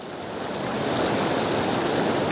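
A swollen mountain river at Devalgarh rushes in flood, a dense, steady roar of churning water that builds slightly and then holds loud and close, with no voices.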